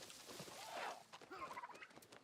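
Turkeys gobble in the video game New World, a burst of rattling gobbles followed by a second choppy run of calls, faint in the mix with no speech over them.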